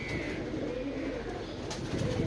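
A brief stretch of soft, low pigeon cooing murmurs steadily nearby, with faint background noise from rain.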